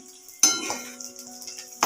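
Garlic sizzles quietly in hot oil over low heat on a stove, with a couple of sharp clinks from a utensil against the pan.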